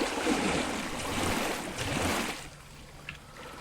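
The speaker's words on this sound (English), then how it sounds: "I heard some big splashing" Big splashing in a video game swimming pool, a loud, rushing surge of water that churns for about two seconds and then fades to a quieter wash.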